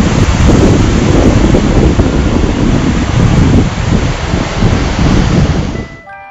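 Loud, constant roar of the Seljalandsfoss waterfall in Iceland mixed with heavy wind buffeting the microphone, a dense crashing wash heard up close that fades abruptly at the end.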